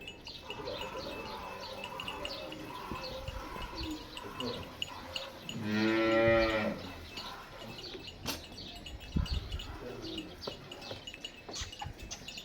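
Cholistani Friesian cross cow, a very large dairy animal, lets out a single drawn-out moo in the middle, nearby, amid background chatter, birdsong and farmyard noise.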